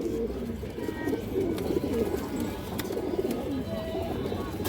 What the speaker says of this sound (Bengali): দর্শক এই দেখেন মাদিরা অনেক চঞ্চল কবুতর